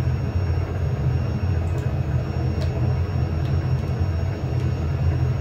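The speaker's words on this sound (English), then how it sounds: "You can just feel how big this helicopter is, even though it's a simulator." Steady, loud rotor and turbine drone of a large helicopter in the Arma 3 flight simulator, a continuous close engine roar with faint higher whines and no talking.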